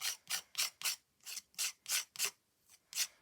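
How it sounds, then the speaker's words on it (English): A palette knife scraping metallic gilding polish through a stencil, making about a dozen quick rasping strokes in an even back-and-forth rhythm, close but quiet, with no voice. "And I'm almost scraping the excess off the top."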